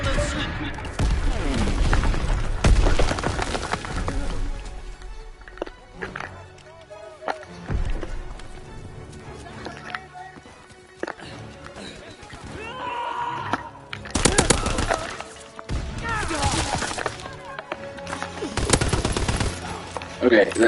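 Sustained automatic weapon fire and scattered shots from the World War II shooter video game Call of Duty WWII, with loud bursts and rattling volleys coming and going over about twenty seconds, and brief talk mixed in.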